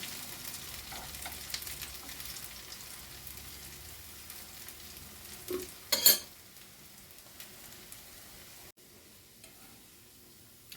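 Zucchini pieces fry in oil with a faint, even crackle, briefly interrupted by a louder clatter of utensils partway through, then settling back into quiet sizzling.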